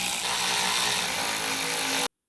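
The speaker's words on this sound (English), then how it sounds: "we just need to re-secure all the bolts that went along the bottom of the bumper" A power tool runs continuously for about two seconds as it tightens the bolts along the bottom of a 2016-or-newer Toyota Tacoma's bumper, a loud, close whirring drone that cuts off abruptly.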